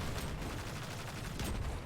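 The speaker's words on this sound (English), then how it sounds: "We're going to start out by shooting these bombs on the wall." Gunfire and exploding bombs on a wall in the video game Destiny 2, in a Lost Sector: dense, loud rumbling blasts and rapid shots run continuously, with a sharper burst near the end.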